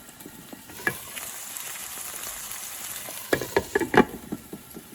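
Onion, ginger and garlic browning in a pan give a soft continuous sizzle, then a run of sharp stirring clatters and scrapes near the end, close and fairly loud with no talking.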